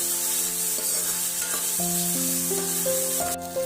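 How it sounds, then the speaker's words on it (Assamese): Mixed vegetables fry in plain oil with a steady, even sizzle that hisses continuously nearby, while sustained musical tones play over it. "অকল তেলত জাষ্ট ফ্ৰাই কৰি দিছোঁ।"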